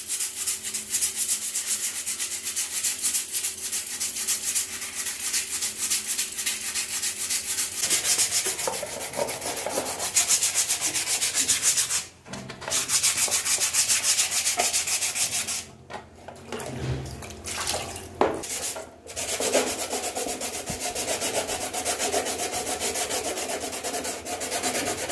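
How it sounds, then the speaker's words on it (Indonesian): Wet sanding paint off a carbon fibre epoxy part with 80 to 100 grit sandpaper and water: steady rasping strokes that continue throughout, close and fairly loud, with a few brief pauses. "Untuk tahap awal catnya bisa kita kelupas menggunakan amplas grade 80 atau 100 ya."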